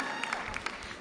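Steady applause from a crowd at an MBA commencement ceremony, a dense patter of clapping hands at moderate distance, continuing evenly throughout.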